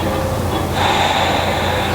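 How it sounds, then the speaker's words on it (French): A deep, audible breath during a prenatal yoga session, a long airy inhale or exhale that stands alone and close, with no talking over it. "On a une dernière respiration ici."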